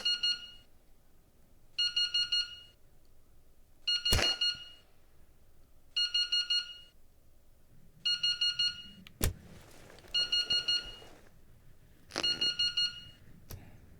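A gadget in the video game Entering the Radius sounds a repeating electronic alarm tone in short rapid beep bursts, roughly every two seconds, with a few sharp clicks between the bursts.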